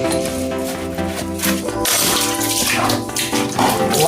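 Tap water runs loudly into a kitchen sink while items doused in bleach are rinsed, the gushing and splashing shifting as things move under the stream.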